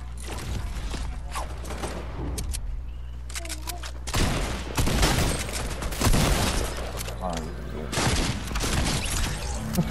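Gunfire crackles in a shooting video game, with dense bursts of rapid shots and scattered single reports, some heavier volleys near the middle and end.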